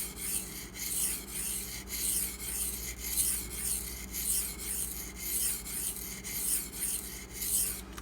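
A D2 steel knife is drawn across a 600 grit friable abrasive stone in regular back-and-forth rasping strokes, close and crisp, each pass a gritty scrape repeating roughly twice a second with no talking.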